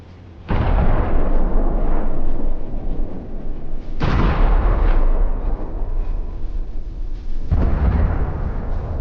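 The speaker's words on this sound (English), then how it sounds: "HIMARS strikes, taking out a bunch of targets at once" HIMARS rocket strikes hit a Russian convoy, producing three heavy booming explosions about three and a half seconds apart, each a deep, loud blast trailing into rumbling debris and echo.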